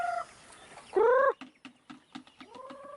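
A hen clucks in short, repeated bursts, with one louder drawn-out call and softer clucks following, close by against a faint farmyard background in the countryside.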